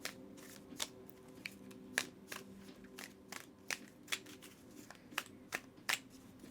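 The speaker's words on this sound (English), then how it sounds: "I'm going to go ahead and give the deck a beautiful shuffle for you" A Light Seers tarot deck is shuffled by hand, giving a steady run of close, crisp riffling flicks and soft card slaps spaced roughly every half second, quiet and with no talking.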